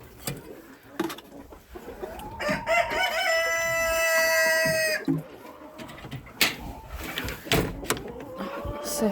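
Several chickens cluck and squawk noisily over each other nearby, with one long drawn-out crow in the middle and a few faint voices in the background.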